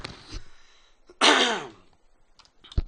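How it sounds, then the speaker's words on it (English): A single harsh throat-clearing cough bursts out close up, with a few faint breaths and small mouth sounds before and after. "Hold on, got a cough."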